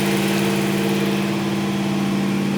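A rebuilt Ram truck engine, on its second rebuild after a failed cam and lifter, runs at a steady idle with a constant low drone and even pulsing throughout, close and alone.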